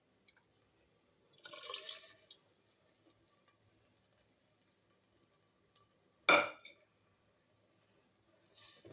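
A short burst of water pouring into a clay cooking pot for sambar, followed a few seconds later by a sharp metallic clatter and another brief knock.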